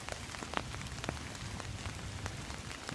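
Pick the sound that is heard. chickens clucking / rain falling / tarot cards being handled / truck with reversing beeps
rain falling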